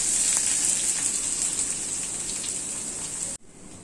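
Onion and garlic frying in hot oil in a home kitchen pan: a steady, dense hiss and crackle of sizzling, loud and close, continuing alone until it cuts off abruptly near the end.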